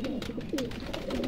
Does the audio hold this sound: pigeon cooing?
yes